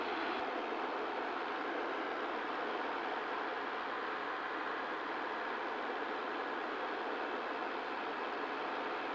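Steady, unbroken drone of a Cub light airplane's engine in flight just after takeoff, a loud broadband roar that holds level throughout with no talk over it.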